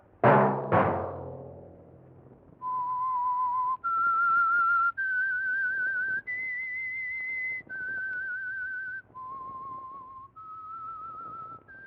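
A clear whistled tune of sustained notes stepping up and down in pitch, the theme of the 1947 radio program The Whistler, preceded by a couple of sharp knocks, loud and close.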